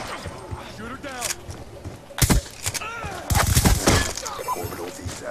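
Weapon fire from the War Machine in Black Ops 2 gameplay, with loud bursts and crashing impacts around two and three and a half seconds, heard under a talking voice and game effects.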